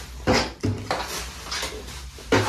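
A frying pan with a broken handle pulled from a dumpster, giving several close metallic clanks and knocks at irregular intervals, with no one talking.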